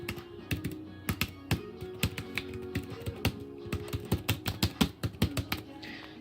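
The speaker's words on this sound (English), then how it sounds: "Here is a typing test." Someone types on an HP laptop keyboard with custom scissor key switches, producing close, fairly loud clicky keystrokes in irregular bursts over a low background hum.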